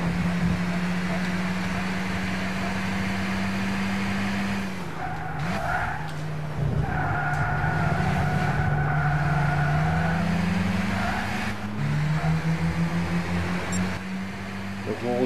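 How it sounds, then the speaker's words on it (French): A race car in Gran Turismo 6 drones with a steady engine note, then its tires squeal through corners in long wavering screeches before the engine pitch climbs again, loud and continuous. "Je vous laisse profiter un petit peu en fait du son du moteur."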